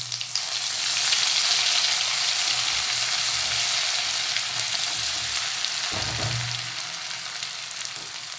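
Ginger-garlic paste and cumin fry in hot oil for a Gujarati tindora (ivy gourd) shaak, giving a loud, steady, close sizzle that runs unbroken, with a brief stirring bump near the end.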